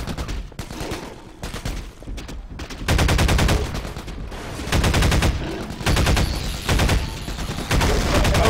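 Rapid gunfire from the Half-Life video game, dense bursts of repeated shots coming in clusters with short gaps, loud and alone without talk.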